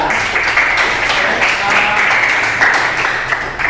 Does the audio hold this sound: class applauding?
yes